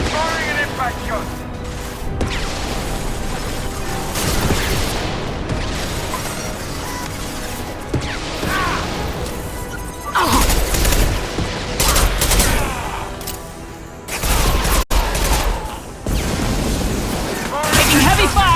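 In the sci-fi shooter Mass Effect 2, heavy gunfire roars as dense automatic bursts overlap with booming impacts and mechanical clatter, loud and close, with voices calling out over the combat.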